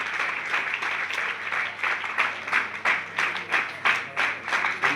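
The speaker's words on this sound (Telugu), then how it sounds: "వారిని ఒకసారి మీరు గట్టిగా క్లాప్స్ కొట్టి స్టేజీ పైకి ఆహ్వానించి" A crowd at a college freshers' party applauds to welcome the college chairman onto the stage. The dense clapping is loud and steady, and it swells into rhythmic bursts toward the end.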